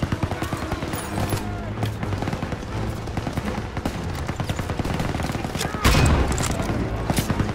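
Sustained automatic machine gun fire in the World War II shooter Call of Duty: WWII, dense bursts of gunfire running throughout with a louder blast near the end, while someone talks over the din.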